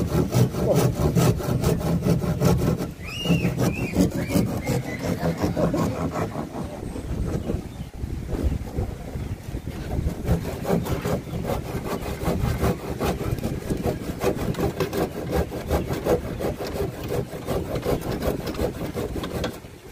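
Freshly sharpened hand saw cutting through wood, rapid rhythmic rasping strokes repeating close up and loud for the whole stretch, with no talking.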